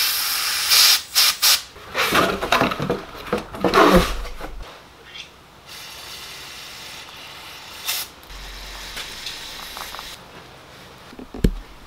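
Brake cleaner sprays onto a warm front brake caliper and carrier of a 2017 BMW X1 xDrive28i F48 during a pad change, giving repeated loud hissing bursts with clicks and tool clatter, then quieter pauses.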